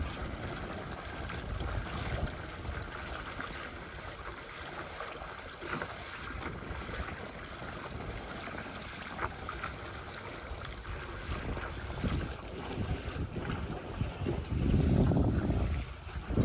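A sailboat moves under sail in a light breeze of about 6 to 7 knots at roughly 4.5 knots, with steady wind rush and water wash running continuously and close, swelling slightly louder near the end.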